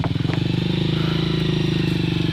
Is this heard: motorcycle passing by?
yes